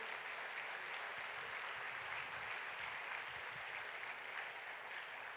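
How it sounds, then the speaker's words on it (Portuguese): A church congregation claps together in praise for several seconds, a steady, dense wash of hand claps that sounds distant and fairly soft throughout. "Aleluia, pode aplaudir o Senhor."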